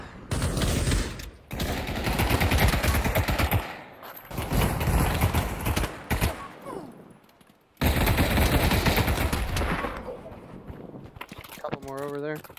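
Dense, sustained automatic gunfire in the VR shooter game Pavlov VR, loud bursts filling most of the clip with brief pauses, with a voice speaking over it.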